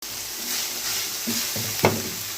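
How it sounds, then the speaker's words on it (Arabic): Minced meat frying in a pan as vegetables are stirred in, a steady close sizzle with a few scraping stir strokes and a sharper clack of the spoon near the end. "انزل الخضار بتاعي، هقلبه في اللحمه المفرومه"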